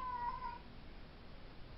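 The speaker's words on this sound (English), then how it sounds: "my cat's meowing" An indoor house cat gives one short, faint meow at the start, followed by steady low background hiss, with no one talking.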